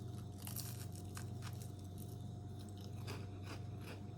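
Close, crisp crunching bites and chewing of a square Sherman's Tennessee hot saltine cracker, several sharp crackles spread over a few seconds with no talk.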